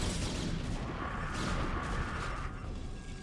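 Repeated booming blasts and mechanical rumble from photon cannons firing in a StarCraft: Brood War match, a dense continuous barrage filling the mix with no talk over it.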